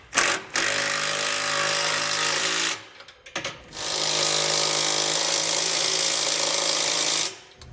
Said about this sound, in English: come back to the 9/16 socket and snug everything down